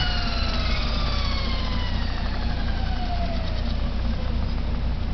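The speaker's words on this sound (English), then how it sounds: "You turn it off, it" A GE Type SCR electric motor running at 1100 RPM is switched off. Its steady whine slides down in pitch as it slows, over a constant low hum, heard close.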